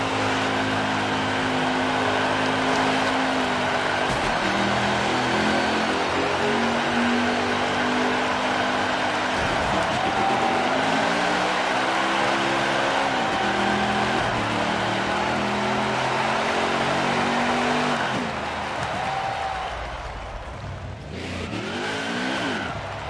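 A NASCAR Craftsman Truck Series truck at Michigan International Speedway does a long burnout, its engine revving loudly and steadily with rising and falling pitch and tire noise, continuous and close, easing slightly near the end.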